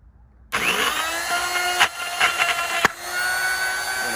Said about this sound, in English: Take my router tool. I'm just gonna set it on the wood.